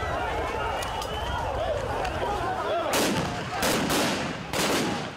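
Gunshots fired during a riot in Bungoma, several loud sharp blasts in the second half over a constant rumble of crowd noise and commotion.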